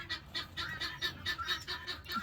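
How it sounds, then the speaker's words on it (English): Geese and guinea fowl in a barnyard give a run of rhythmic honking and squawking calls, a steady pulse of repeated cries at moderate distance. "So we got guineas and geese and everything else."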